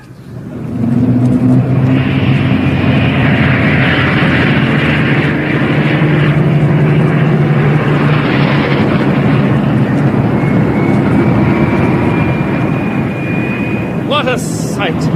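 A radio comedy sound effect of many airplanes taking off: a loud, continuous roar of engines swelling and droning for several seconds, with tones rising and falling over the steady wash.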